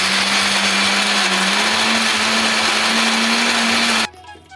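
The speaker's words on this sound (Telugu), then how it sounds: "ఇలా కొద్దిగా స్మూత్గా గ్రైండ్ అయిన తర్వాత కొద్దిగా వాటర్ వేసుకుంటూ మిక్సీకి స్మూత్గా గ్రైండ్ చేసుకోవాలండి" A mixer grinder blends fruit and vegetables for ABC juice, a loud steady whirring drone that holds for about four seconds, shifting pitch slightly, then cuts off abruptly into quiet.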